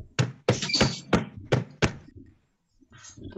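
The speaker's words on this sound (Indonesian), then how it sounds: "Itu suara siapa yang lagi ketok-ketok ya?" Someone knocking on a door, five sharp separate raps in an uneven rhythm, fairly close and clear, followed by a short pause and a faint rustle.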